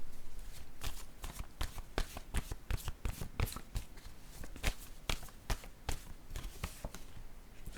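Cards slapped down one after another in a steady, irregular series of crisp taps, close and fairly loud, with no talking.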